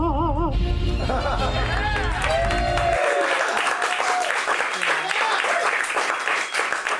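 Sustained applause from an audience fills the room after a brief musical sting and speech, steady and lively throughout.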